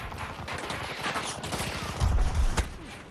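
Rapid automatic gunfire in Battlefield 2042, with an LMG firing a steady stream of close shots and a few heavier thumps near the end.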